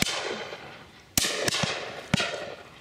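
Distant shotgun shots on a driven game shoot, three or four sharp cracks spaced about a second apart, each ringing out briefly over quiet outdoor ambience.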